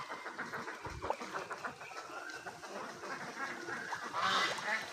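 Ducks on a farm pond call in scattered honks and quacks over steady outdoor background noise, with a louder burst of calls near the end.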